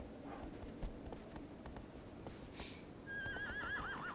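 A horse in the video game Shadow of the Colossus whinnies with a wavering, trilling neigh near the end, after some clip-clop hoofbeats and scattered clicks over quiet background noise.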